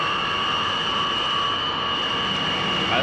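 A jet airliner at a tower-cleared takeoff begins a rolling start with noise abatement; a loud, steady engine roar with a high whine holds throughout, building slightly at the end.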